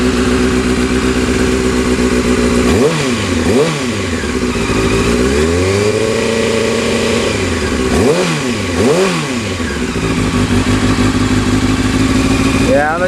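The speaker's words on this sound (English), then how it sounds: "I'm gonna give a little bit of throttle in a little bit" Motorcycle engine during an oil change, idling loudly up close and then revved twice with throttle blips that rise and fall, with a longer swell between them.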